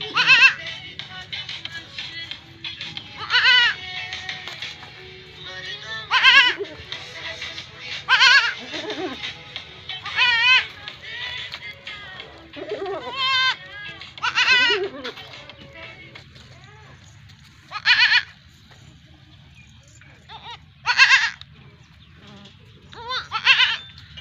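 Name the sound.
goat bleating, crossbred goat that gave birth to two kids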